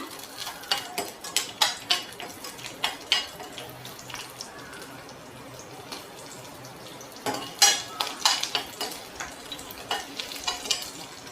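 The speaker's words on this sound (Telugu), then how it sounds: "వేడెక్కిందండి ఆయిల్ తెల్లుల్లి కొంచెం వేగనిద్దాం" Garlic frying in hot tempering oil for a vaamu pappu dal, with crackling sizzle and repeated sharp stirring clatters against the pan, loud bursts clustered early and late.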